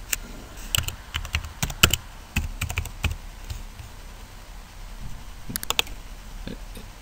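Password keystrokes on a computer keyboard while setting up a Gmail account: close, irregular bursts of crisp clicks with short pauses between runs, and no talking.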